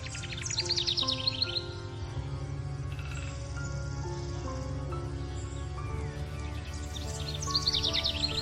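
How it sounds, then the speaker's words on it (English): A Goffin's cockatoo, also called the Tanimbar corella, gives bursts of high, rapid chirping calls at the start and again near the end, with quieter warbling in between, fairly close and without voices. "Goffin's Cockatoo."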